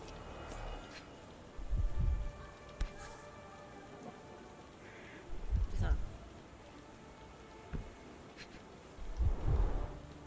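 Quiet video-game rain patters under several low rolls of thunder, three deeper rumbles spaced apart, with occasional speech, in Sherlock Holmes: The Awakened, set at Baker Street, England.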